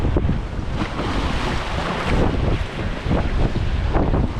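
Steady wind roars across the microphone while sea waves surge and break against breakwaters by a marina, a continuous loud rush with no voices.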